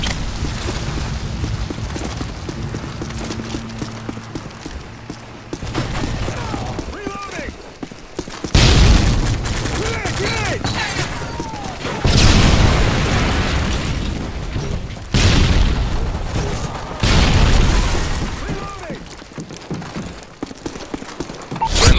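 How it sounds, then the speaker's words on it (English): Predator missile strikes in the Call of Duty Modern Warfare 3 multiplayer match land as repeated loud booming explosions among gunfire and game noise, with voices over the action. "Friendly Predator missile inbound."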